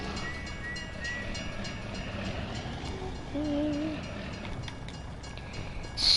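A train passes close by on tracks beside a farm, giving a continuous heavy rumble with a brief tonal horn-like blare midway and a sharp rise at the very end.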